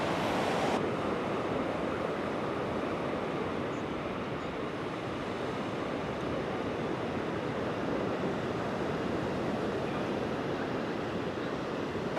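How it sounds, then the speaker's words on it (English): Ocean waves break steadily on a beach at sunset, a continuous loud wash of surf with wind buffeting the microphone, with no speech. "And there is the ocean right there."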